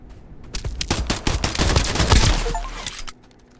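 Rapid pistol shots in the video game Escape from Duckov, a quick run of sharp close cracks growing denser into a loud flurry, then stopping and leaving a faint tail.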